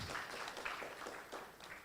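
At an international conference on communication, society and digital media, the audience gives a warm round of applause to welcome a speaker, a faint, dense, distant patter of many hands clapping continuously.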